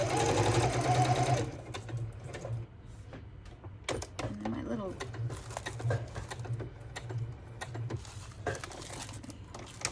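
A sewing machine stitches junk journal pages, a steady close mechanical whirr and rapid needle clatter in bursts, pausing briefly with soft handling noises and a few quiet spoken words between runs.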